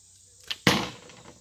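A primitive bow looses a six-foot River King arrow: a faint tick, then a sharp snap of release that trails into a fading whoosh, close and loud, with no talking.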